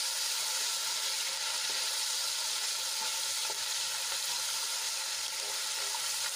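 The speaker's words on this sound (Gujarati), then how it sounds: "આદુ લસણ અને મરચાંની પેસ્ટને આપણે સાંતળી લઈશું" Ginger, garlic and green chili paste with curry leaves sautés in hot oil, giving a steady, close hissing sizzle that runs unbroken throughout with no talking.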